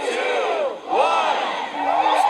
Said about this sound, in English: Look at this crowd. It's so big.